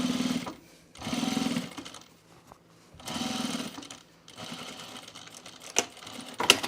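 A sewing machine stitches pants with matching thread, running in several short bursts of steady mechanical whirring. Quiet pauses separate the bursts, and soft handling noises come at the end.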